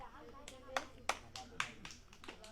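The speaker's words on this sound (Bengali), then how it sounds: "সবাই একটা হাতে তালি একসাথে" A group of people clapping together during a party game, a series of sharp, evenly spaced claps at a slow steady pace over murmuring voices.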